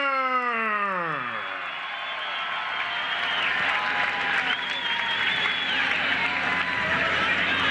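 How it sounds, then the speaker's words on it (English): A falling drawn-out ring announcer's voice tails off into loud, continuous crowd applause and cheering at a fight event that fills the rest of the clip. "Let's hear a big round of applause for Kevin Hengler."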